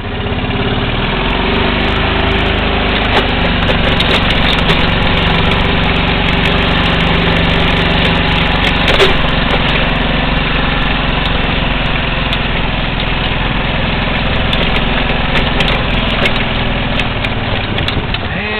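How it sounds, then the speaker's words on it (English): Bulldozer diesel engine idling at a farm homeplace, a steady loud low rumble with constant vibration running the whole time, no talk over it. "There's Dad's bulldozer."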